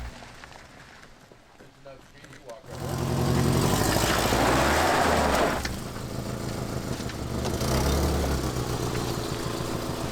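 Subaru Crosstrek fitted with a Torq Locker climbing a trail, its engine quiet at first, then surging loud and strained for a few seconds before settling into a steady working drone, with voices mixed in.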